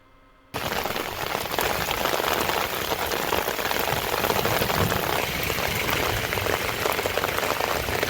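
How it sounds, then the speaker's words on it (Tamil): Moderate rain pouring in Chengalpattu district near Kalpakkam and Koovathur, a dense steady patter that starts abruptly after a short quiet moment and keeps going at even loudness. "கல்பாக்கம், கூவத்தூர், முகையூர் உள்ளிட்ட பகுதிகளில் மழை பெய்தது"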